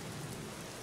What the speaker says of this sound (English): This rain is totally not ominous.